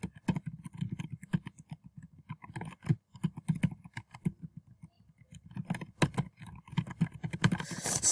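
Rapid computer keyboard typing while playing Roblox, with close, bursty clatters of keystrokes in uneven rhythm that pause briefly and resume.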